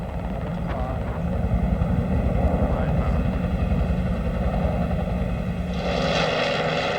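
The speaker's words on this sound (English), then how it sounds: "Once full, the planes fly in formation back to the fire, or in this case the display, and one by one move into position." Firefighting water-bombing planes fly past in formation at the Avalon airshow in Australia, their engines a loud, sustained droning roar that holds steady and brightens toward the end as they draw nearer.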